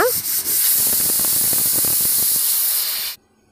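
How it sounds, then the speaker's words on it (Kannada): A kitchen pressure cooker vents steam in one loud, steady hiss that lasts about three seconds and then cuts off sharply to near silence. No one speaks. "ಕುಕ್ಕರ್ ಕ್ಲೋಸ್ ಮಾಡಿ whistle hockey four to five ವಿಷಲ್ಸ್ಗೆ ಇದನ್ನು ಬಿಟ್ಬಿಡೋಣ"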